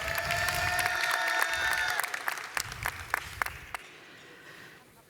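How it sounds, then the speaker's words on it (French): Audience members at a union congress applaud, a dense sustained round of clapping with a steady tone underneath that thins into scattered claps before fading out. "On peut applaudir."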